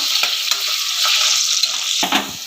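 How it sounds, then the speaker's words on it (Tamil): Onions, curry leaves and spices sizzle steadily in a pan for a chicken curry while a spoon stirs them, adding sharp scraping clicks close by. "நல்லா நான் கிண்டி விடுறேன் நல்லா வதங்கட்டும்"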